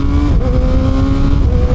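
A Kawasaki ZX6R 636 sport motorcycle engine drones loudly and steadily as the rider brakes and downshifts, its pitch dipping and shifting slightly; it is close and continuous, with no talking.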